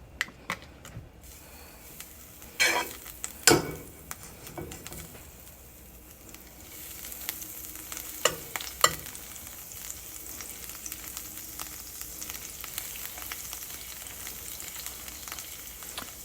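Butter melting and frying in a hot skillet, giving a steady close sizzle with a few sharp crackles and pops early on, then settling into an even hiss.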